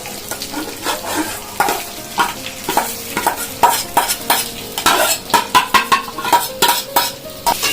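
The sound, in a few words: rice added and stirred in pan for pulao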